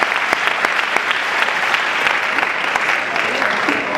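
Sustained audience applause filling a convention hall in Madrid, dense steady clapping from a large crowd with no pauses, loud and close throughout.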